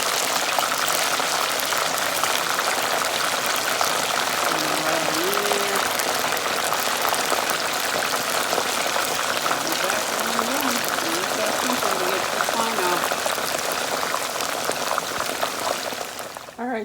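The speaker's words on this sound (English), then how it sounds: "Alright, so I'm frying my okra." Okra frying in hot oil in a home kitchen while seafood gumbo is being made, with a steady dense sizzle and crackle throughout. A voice speaks briefly over it partway through.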